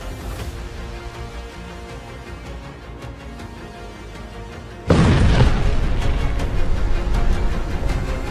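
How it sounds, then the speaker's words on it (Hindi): After a few seconds of low rumble, a sudden loud explosion booms in southern Lebanon and its heavy roar continues for several seconds, no voices. "धमाका नंबर 2"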